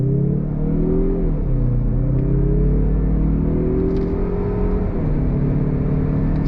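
A 2022 Mazda CX-30 with a 6-speed automatic pulls away from a dead stop, its engine note rising steadily with audible shifts, a close, continuous rumble and whir heard alone.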